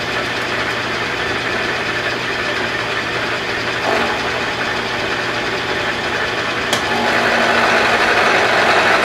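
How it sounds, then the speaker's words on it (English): Milling machine cutting a steel T nut for a quick change tool post under flood coolant, a loud continuous grinding drone with slight chatter, steady throughout. "You can see a little milling action."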